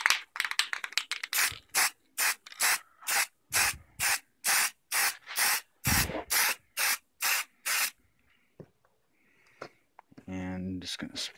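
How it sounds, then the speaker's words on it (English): Valspar high gloss black lacquer sprays from an aerosol can onto a taped-off Storm Trooper mask, a series of about fifteen rhythmic, loud hissing bursts up close, followed by quieter handling sounds. "Just gonna spray."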